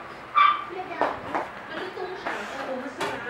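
A pregnant dog barks in several short, sharp bursts spaced about a second apart, heard at moderate distance over a low background hum.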